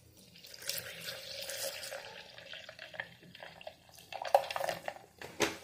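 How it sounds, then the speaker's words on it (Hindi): Fresh milk poured into a blender jar over ice cubes and milk powder for a strawberry milkshake, a soft liquid splashing and trickling for several seconds in a kitchen, ending with a couple of light clinks. "साथ में हम इसके अंदर ऐड करेंगे फ्रेश मिल्क।"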